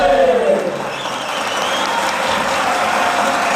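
An audience claps steadily and loudly after a Magar drama performance at a cultural evening. The clapping continues throughout, with a crowd murmur underneath.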